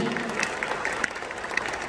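Audience applause after a patriotic poem recitation at a 2023 Hindi kavi sammelan: a soft, thin wash of many hands clapping, steady and fairly quiet throughout.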